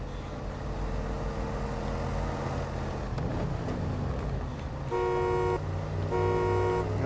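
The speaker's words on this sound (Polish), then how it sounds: "No tu jak widać jest klakson" A vehicle horn sounds in the Snowrunner off-road game on the Michigan map as two loud, tonal honks over a steady engine rumble, the first held longer than the second.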